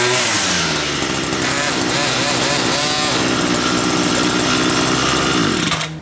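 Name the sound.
18V cordless battery-powered electric string trimmer running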